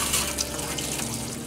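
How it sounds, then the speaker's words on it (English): Fresh water from a van's shower runs in a steady, close splashing stream as someone rinses soap off their body, brief and continuous with no talking. "we'll rinse off with the fresh water in our shower"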